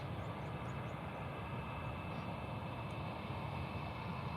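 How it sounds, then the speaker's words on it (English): A Transavia Airbus A321neo airliner on approach to Faro airport gives a steady, faint, distant jet roar that holds evenly throughout, with no voices over it. "So now we've got the Transavia A321 Neo coming in."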